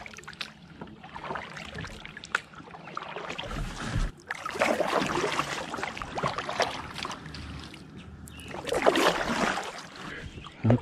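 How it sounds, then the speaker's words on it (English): A kayak paddled on Lake Taghkanic in a state park gives repeated paddle splashes and gurgling water trickles, close by, rising and falling in irregular strokes with no talking. "We are lake kayaking at Lake Taghkanic State Park."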